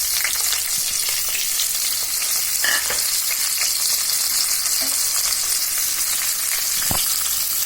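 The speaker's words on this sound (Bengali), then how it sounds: "আমার পেঁয়াজ, রসুন, কাঁচামরিচ ভালোভাবে ভাজা হয়ে গেল।" Onion, garlic and green chilies frying in oil in a wok for okra with dried shrimp, giving a steady, close, dense sizzle with occasional stirring clicks and scrapes, no voices.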